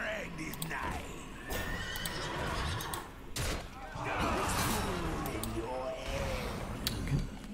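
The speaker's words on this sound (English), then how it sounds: "I think it's the horse, right?" A horse neighs during a Hearthstone arena match, a loud whinny with clip-clop hoofbeats in the game audio, while someone talks over it.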